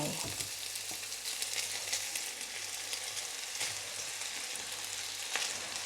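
Boiled noodles go into a frying pan with speck and are stirred, giving a steady close sizzle with light scraping and tossing sounds and no talking.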